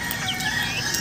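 Chickens cluck and call in a rural Philippine coop, several birds heard close together in a short busy burst over background noise.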